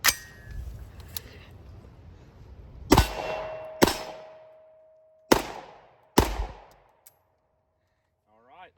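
Unsuppressed short-barreled rifle firing Remington 220 grain subsonic ammunition: four sharp, loud reports spaced a second or two apart, each with a ringing decay, over faint outdoor background.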